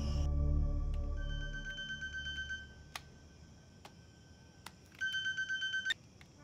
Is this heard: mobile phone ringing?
yes